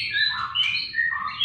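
Busy birdsong of white-rumped shamas with continuous chirps and whistled trills, fairly loud and close, several birds overlapping with no pauses.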